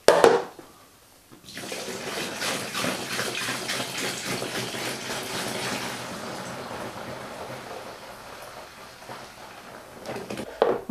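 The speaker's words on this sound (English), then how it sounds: "And let's add this to the fermenter as well." Dissolved malt extract water for an Oktober-style beer kit poured from a canister into a home-brew fermenter: a steady, close splashing gush that runs for about nine seconds, then tapers off, with no talk.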